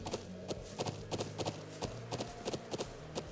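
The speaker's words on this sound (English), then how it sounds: "Horsies!" Horses in the video game Trails of Cold Steel trot with close, crisp clip-clop hoofbeats in a steady repeating rhythm, alone and fairly loud.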